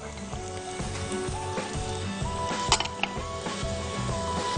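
Onion sizzling in olive oil with basil and spices for a marinara sauce, a steady, close frying hiss with stirring and occasional utensil clinks against the pan.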